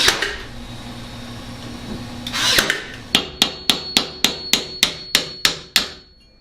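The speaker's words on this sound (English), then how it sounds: "nail them on up there." After a muffled scraping bump, a hammer drives nails into PVC trim about ten times in a quick steady rhythm, sharp and close, each blow ringing briefly.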